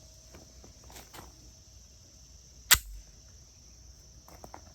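A single sharp, loud report from a Springfield Armory Echelon pistol rings out at a range, standing alone against quiet outdoor background with faint insect chirping.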